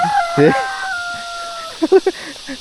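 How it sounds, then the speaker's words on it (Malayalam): A rooster lets out a loud, stretched crow at midday, followed by a few short, clipped sounds near the end. "ഈ നട്ടുച്ചക്കാണ് കോഴി കൂകുന്നു."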